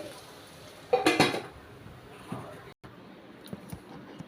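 Cooked bitter gourd curry is scraped from the pan into a bowl, with a short burst of clinking and scraping followed by fainter taps.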